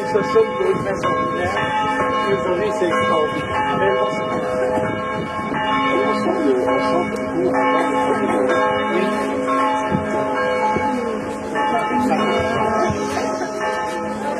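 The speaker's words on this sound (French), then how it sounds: "Ah, les cloches." Church bells in Pleyben, France ring continuously with overlapping metallic tones, moderately distant, while a person speaks briefly over them.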